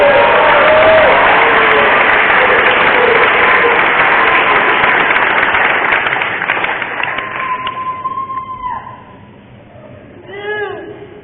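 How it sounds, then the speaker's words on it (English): A wrestling awards banquet audience gives a round of applause, a loud, dense wash of clapping that fades out over several seconds, followed by faint voices and a brief murmur. "give a round of applause for a hard worker"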